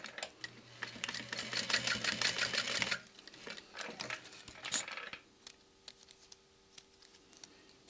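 Domestic sewing machine running a quarter-inch seam through domestic-weight vinyl, fast rapid stitching bursts up close, pausing and restarting with faint handling clicks.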